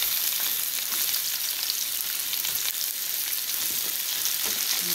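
Cabbage flash-cooks in hot oil in a pan, giving a steady, dense sizzle that holds at an even level for the whole stretch, with a few faint stirring clicks and no talking.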